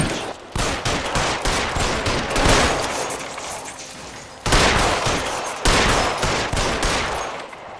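Rapid, sustained gunfire in L.A. Noire, a loud fusillade of close shots fired to blast out letters, running almost continuously with brief pauses and fresh bursts partway through.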